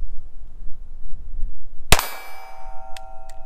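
A single sharp shot from a Taurus TX22 pistol firing Federal ammunition at a range, a loud metallic crack with ringing tail, followed by a couple of faint clicks as the spent case fails to eject.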